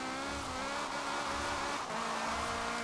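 A Honda Prelude's VTEC engine revs hard in Forza Horizon 4, a steady high-pitched, buzzing drone held at high rpm throughout with tire noise underneath, close and loud with no talk.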